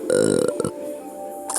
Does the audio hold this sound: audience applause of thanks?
no